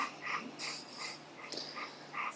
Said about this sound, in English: we got Lexie and 4 puppies